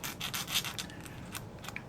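A sanding stick rasps against a small model ship part in quick, short back-and-forth strokes. The scratching is close and fairly soft, lasts about two seconds, and there is no speech.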